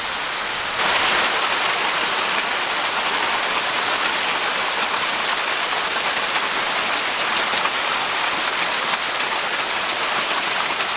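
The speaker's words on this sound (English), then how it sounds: "And here we are at the top of that waterfall we're just looking at." Scouten Brook waterfall heard from up close, a loud, steady roar of rushing water that fills the whole stretch without a break and with no voices.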